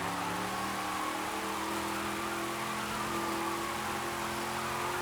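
A car engine in Forza Horizon 5 holding a strained, steady drone with a slowly rising pitch, continuous and moderately loud without speech.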